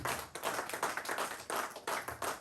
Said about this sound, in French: On peut encore l'acclamer